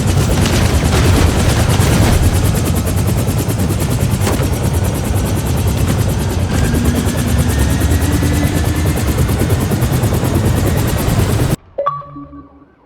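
A helicopter in the video game 007 First Light thunders loud and close with a constant rotor chop during an escape, then cuts off abruptly near the end, leaving a few faint tones.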